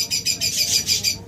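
A pet bird, one of a pair of budgerigars, cockatiels or lovebirds offered for sale, gives a quick rhythmic run of sharp chirps, close and loud, with no voices.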